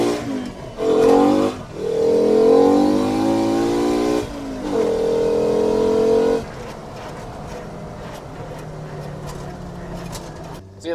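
A Mk2 GTI fitted with a five-cylinder engine revs loudly in sustained bursts that abruptly cut out and break up, then settles to a low rumble scattered with small crackles and pops.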